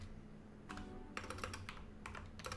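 Quick bursts of typing on a computer keyboard, close and faint, with clusters of rapid key clicks separated by short pauses over a low hum.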